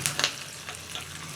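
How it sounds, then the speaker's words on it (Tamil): Chopped cashews fry in ghee in a pan, giving a steady close sizzle with a few sharper crackles near the start and no voices. "பொடி பொடியாக கட் பண்ண முந்திரி பருப்பு எல்லாமே சேர்த்துட்டு நல்லா ஒரு 2 நிமிஷம் நெய்யில் நல்லா வறுத்துக்கலாம்."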